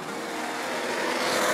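Classic Honda Formula 1 car engine, as driven by John Surtees, roaring steadily and loudly at close range, its rich engine tone holding level throughout with no voices over it.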